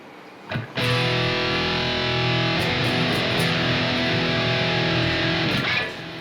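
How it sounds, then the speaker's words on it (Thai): A custom seven-string electric guitar with a bird's eye maple top plays through heavy distortion, one thick chord ringing loud and sustained for about five seconds before it cuts off, with no voices. "ต่อไปมาฟังเสียงแตกนะครับ"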